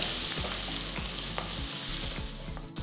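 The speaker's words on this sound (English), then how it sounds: "Next add 2 green chilies chopped and mix everything well." Asafoetida, chopped ginger and green chilies sizzle loudly in hot oil while a spoon mixes them, with a bright, steady frying hiss and a regular series of scraping strokes against the pan.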